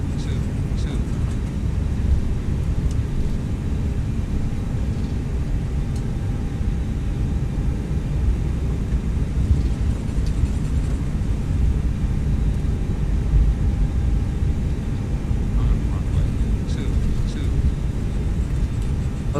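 An airplane taxiing on a runway in the X-Plane 11 flight simulator gives a steady, even engine drone for the whole stretch, running beneath continuous talking.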